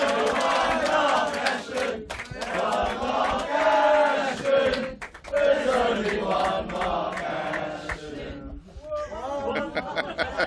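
A studio audience welcomes guest Mark Ashton with loud cheering, whooping and excited crowd noise, sustained for several seconds with brief dips, mixed with chatter and laughter.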